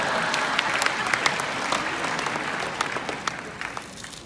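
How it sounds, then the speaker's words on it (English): Steady, dense applause fills a large hall as an audience claps for a speaker at a company family reunion event, sustained and even throughout with occasional sharper individual claps standing out. "Big round of applause, please."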